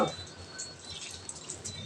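Water from a bucket is poured little by little onto a person: a soft, close splashing trickle with a light hiss that runs on at an even, fairly quiet level.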